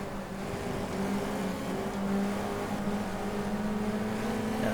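Race car engine roaring at high revs in GT Legends, a Cortina in the race field, steady and loud throughout with a slight swell as another car rockets past near the middle.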